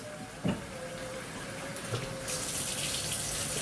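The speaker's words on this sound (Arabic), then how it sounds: "نغسل الرز" Rice being rinsed under a running kitchen tap, a steady broadband rush of water into a sink with a few splashy knocks, brightening and growing louder toward the end, no talking.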